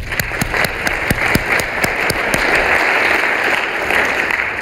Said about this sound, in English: let's give those guys a hand of applause.